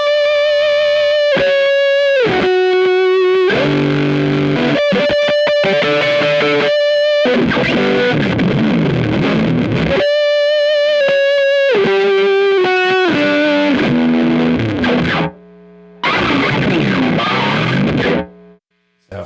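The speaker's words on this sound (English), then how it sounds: "What I kind of like it for is like a chaotic fuzz. So I have the distortion cranked pretty high here." Electric guitar played through a worship pedalboard with a cranked, chaotic fuzz distortion, loud and close, with sustained lead notes and rapid bursts breaking off abruptly into brief silences near the end.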